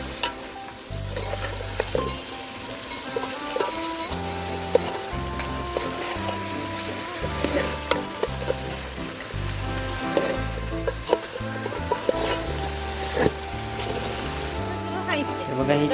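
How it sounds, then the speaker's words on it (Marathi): Drumsticks (moringa pods) and village-style chicken are stir-fried in a pot on a wood-fired chulha, giving a loud, constant sizzle broken by stirring scrapes and clanks, with low tonal sounds underneath. "शेंगा टाकून झाल्यानंतर परत चांगल्या प्रकारे परतून घ्यायचे।"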